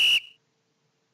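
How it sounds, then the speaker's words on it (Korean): A short, bright whistle effect from the Scratch sound library blows once for about a fifth of a second, then cuts off with a brief fading tail, clear and alone. "휘슬 호루라기 소리를"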